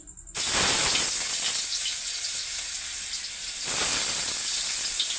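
Chopped onion hits hot oil in a wok with a sudden loud sizzle that keeps hissing steadily, swelling again near the end.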